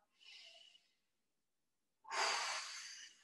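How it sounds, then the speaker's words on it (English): Two deep breaths during a stretching exercise, close and quiet: a soft inhale, a silent pause, then a louder, airy exhale through the mouth. "Couple of deep breaths here."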